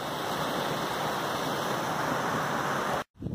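A creek in Red Canyon rushes steadily past as a close, even wash of flowing water with no voices, broken by a sudden brief dropout near the end.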